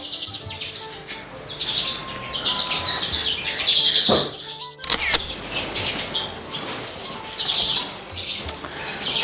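Young lesser redpolls in flight cages in an indoor birdroom, chirping and twittering near and loud with wings flapping, plus one sharp clack midway.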